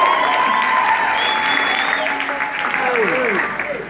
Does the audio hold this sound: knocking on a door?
no